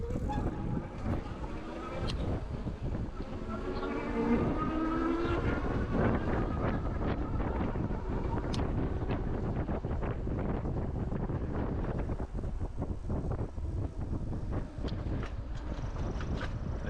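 Electric hub motor of an Engwe L20 2.0 step-through folding e-bike, 52V with 1125W peak power, whining steadily while riding off-road at a construction site near 20 mph, under constant loud wind buffeting on the microphone.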